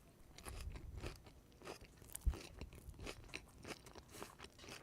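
Close to the microphone, someone bites and chews lettuce, producing a series of wet, crisp crunches at an irregular rhythm, each crunch loud and sharp with quieter chewing rustles between, no talking.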